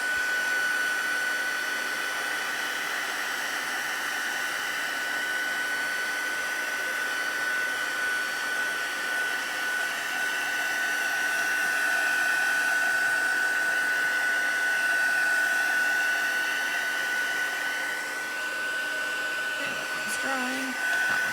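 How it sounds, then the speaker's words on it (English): A heat tool blows steadily while drying enamel on a craft stamp project, a continuous close, loud whir with an even hiss running the whole time and no talking. "Really quick with the heat tool to give it a bit of a dry"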